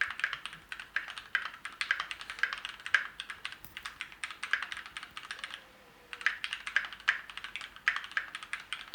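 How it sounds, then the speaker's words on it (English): A Keychron Q1 mechanical keyboard being typed on, close up, with a steady stream of crisp clacky keystrokes in bursts and one brief pause midway, no talking. "In terms of typing, this is the typing noise."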